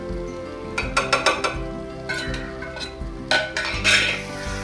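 Spices being mixed into sautéed beans and vegetables for chicken biryani in a pot: a close, busy run of metal spoon clinks and scrapes against the pot over a soft sizzle.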